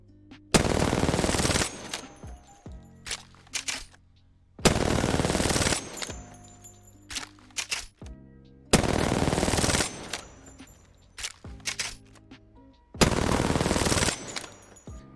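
R-99 submachine gun fire in the video game Apex Legends, four loud sustained bursts of rapid automatic shots separated by short gaps filled with quieter game sounds.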